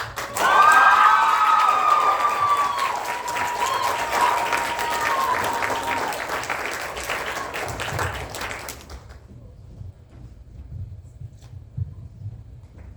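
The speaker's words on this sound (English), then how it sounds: "One round of applause" An audience bursts into loud applause with cheering that gradually thins out, then stops abruptly, leaving quiet room noise.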